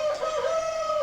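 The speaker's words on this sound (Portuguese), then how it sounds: "Talvez você esteja ouvindo os galos cantando aí no final" A rooster crowing at a house that keeps free-range chickens: one clear, drawn-out call, fairly close and unobstructed, lasting about a second.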